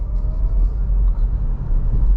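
MG4 SE Long Range electric car accelerating on the road, heard from inside the cabin as a steady low rumble of road and tyre noise with a faint motor whine, continuous and fairly loud throughout.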